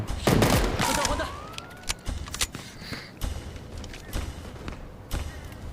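Bursts of gunfire crack out in quick volleys, with scattered single shots and muffled impacts in a 3v3 game mode soundscape, some faint talk underneath.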